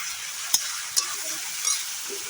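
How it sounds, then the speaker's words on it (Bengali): Potatoes fry in oil as a vegetable dish is cooked, giving a steady bright sizzle close up with a few sharp pops. No one talks. "তো চলো আলুটাকে একটু ভালো করে ভেজে দিই"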